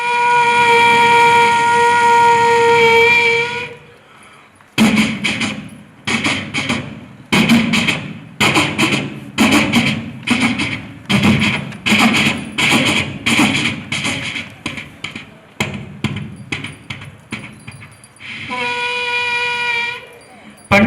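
At a school arts festival, a mimic voices an electric train. A long tonal horn call comes first, then a run of rhythmic clattering bursts like wheels over rail joints, and a second horn call near the end.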